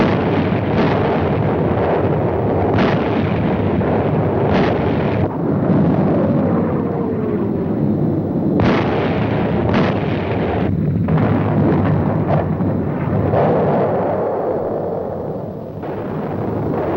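Artillery battery firing on command, from a 1953 war film: heavy booming blasts with rumbling reports over a constant loud roar, dense and continuous throughout with no voices.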